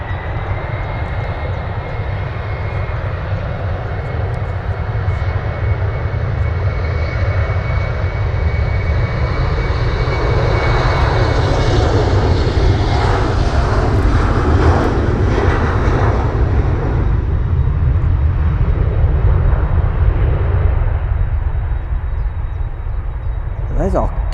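KLM airliner's jet engines roaring loudly and steadily at Manchester Airport, a broad sustained rumble swelling slightly toward the middle as it prepares to lift off, with a voice occasionally speaking over it.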